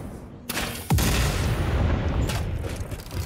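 An explosive rebar gun fires in the video game Satisfactory: a sharp blast, then a booming launch that gives way to a sustained rushing roar lasting several seconds.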